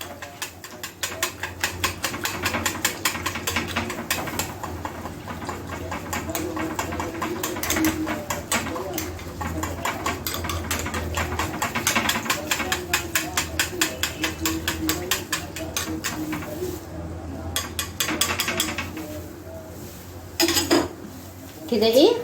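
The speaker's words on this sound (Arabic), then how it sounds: "واقلب الخليط ده كله على بعضه" A spoon stirs and mixes börek filling in a bowl, making quick, repeated clinks and scrapes against the bowl's sides, with pigeons cooing faintly in the background.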